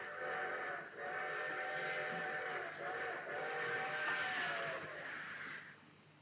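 A steam train whistle called Big Dixie sounds in several long, sustained harmonic blasts with short breaks between them, moderately distant and fading out at the end.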